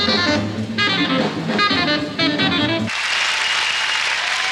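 Audience applause at a 1992 jazz festival: music plays first, then a dense, sustained wash of clapping from a large crowd takes over and carries on to the end.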